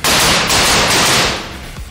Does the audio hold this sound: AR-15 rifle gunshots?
yes